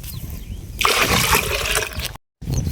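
Water gushes and splashes steadily into a container for about a second and a half, loud and close, then cuts off briefly before resuming.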